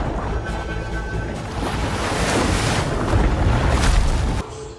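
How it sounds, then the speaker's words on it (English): Large ships clash in a flooded Colosseum during a film battle scene with arrows flying: a dense, continuous wash of churning water, wind and crowd-like roar that builds in loudness, then drops off sharply near the end. "So now they're fighting in the water-filled Colosseum with ships, shooting arrows"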